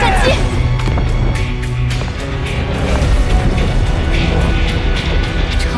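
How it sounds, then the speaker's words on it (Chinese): A huge self-destruct explosion in an animated sci-fi series, the burning-life blast of a warrior likened to a nuclear bomb, rendered as a loud, sustained roaring rumble with crackling bursts that fill the whole stretch without letting up. "超越战神级的燃烧生命自爆，威力相当于核弹。"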